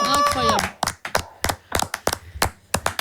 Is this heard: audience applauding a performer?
yes